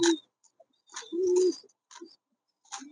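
A pair of Lahori pigeons coo close by in short throaty bursts separated by brief silences, one longer drawn-out coo sounding in the middle.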